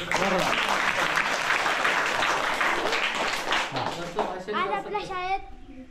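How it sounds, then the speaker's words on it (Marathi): Children at a school farewell ceremony clap for a student named Nandan in a dense, sustained round of applause, with children's voices chattering through it and speech rising near the end. "नंदनसाठी एकदा टाळ्या होऊन जाऊन दे."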